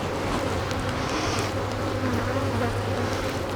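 Russian honey bees buzzing loudly and continuously during a hive inspection, a dense, steady drone of many bees near the open hive.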